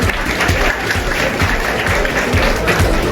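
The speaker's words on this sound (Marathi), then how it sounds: "त्यांनी जोरदार टाळ्या वाजवायच्या आहेत" Loud, dense applause from the audience at an engagement ceremony, a continuous wash of many hands clapping nearby with faint crowd voices mixed in.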